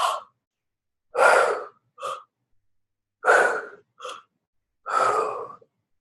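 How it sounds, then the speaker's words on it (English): Several slow, deep breaths close to the mic, long audible inhales and exhales separated by silent pauses, some with a sighing or gasping quality. "go ahead and tap, tap, tap, and do your good deep breaths"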